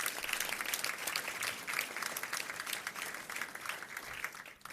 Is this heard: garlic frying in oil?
no